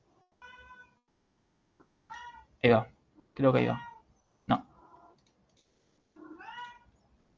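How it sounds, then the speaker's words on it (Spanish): A domestic house cat meows several times, clear and close, its drawn-out cries rising and falling amid short spoken Spanish phrases from a person nearby. "Si escucho maullar un gato es el mío que a esta hora le gusta maullar."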